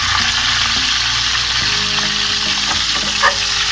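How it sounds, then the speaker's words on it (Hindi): Cauliflower frying in a pan with fenugreek seeds over high heat gives a loud, constant sizzle, with occasional stirring scrapes and clinks. "साथ ही हम अपनी गोभी शामिल करेंगे। इसे हमने फ्राई करना है सबसे पहले।"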